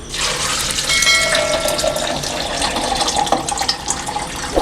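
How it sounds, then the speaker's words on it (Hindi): Water streams steadily into a jug, about a litre poured for a phalsa fruit juice, making a continuous close splashing and gurgling that shifts in pitch as the vessel fills. "अब मैं इसमें पानी ऐड करूंगी।"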